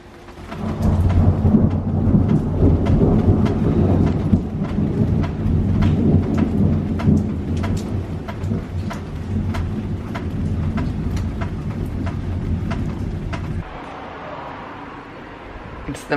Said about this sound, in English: There was one hell of a thunder and lightning storm last night.